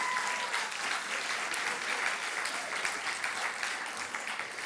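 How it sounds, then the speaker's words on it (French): Audience applause for a pastry cook, a steady, even wash of many hands clapping that holds at moderate volume from start to finish. "on peut l'applaudir"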